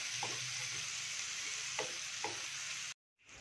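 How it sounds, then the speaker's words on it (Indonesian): Ground spice paste sautéing in a pan for Indonesian sayur lodeh gives a steady, close frying sizzle with a few stirring scrapes, then cuts out abruptly near the end. "Tumis sampai harum"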